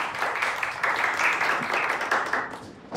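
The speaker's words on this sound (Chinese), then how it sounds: "大家掌声鼓励一下。" Office staff applauding together in a TV drama meeting room: dense, steady clapping from a group, moderately loud, sustained for a few seconds before tapering off.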